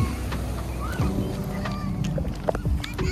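Strong gusts buffet the microphone in low rumbling bursts, with faint voices and background commotion underneath.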